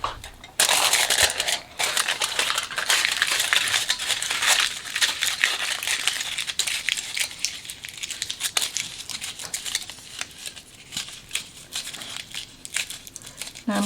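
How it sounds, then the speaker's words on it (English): Paper or similar material crumpled lightly along its length into a rope for a horse head sculpture, a dense, continuous crinkling that starts loud and gradually softens, close up with no talking. "Now I'm crumpling it up right now, just all along the length, but lightly"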